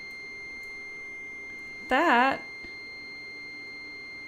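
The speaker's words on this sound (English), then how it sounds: "Sorry about the beeping." A short electronic warning beep sounds once, steady and clear, as the power cuts off, over a quiet room tone.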